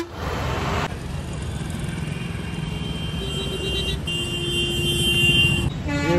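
Highway bridge traffic in India passing near the walker: a steady broad roar of cars and motorcycles rushing by, with short honks and a few brief horn tones sounding over the drone, fairly loud and close throughout.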